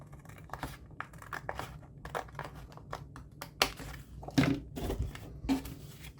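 Scissors cutting through folded craft paper scraps to make gift tags, a series of crisp irregular snips and paper rustles, close and fairly quiet.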